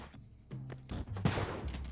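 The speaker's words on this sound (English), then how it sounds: "the bomb explosion, I would say, is the #1 sound effect that is different, that is super weird" A bomb exploding in the video game Spelunky 2, a burst of harsh crackling blasts that build into a loud, noisy boom and then a short rumbling tail, heard close with no talking.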